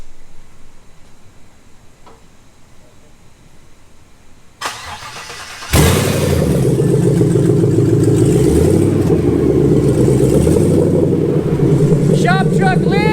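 Shop truck with a Gen 5 engine swap starting: quiet background, a brief crank, then the engine catches and settles into a loud, steady idle that continues to the end.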